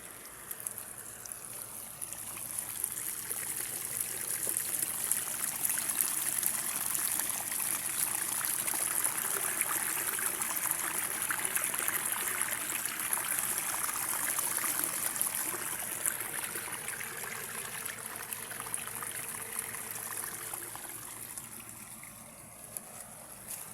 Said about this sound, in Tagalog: Ilog na yan.